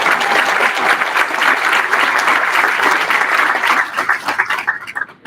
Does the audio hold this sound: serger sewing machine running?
no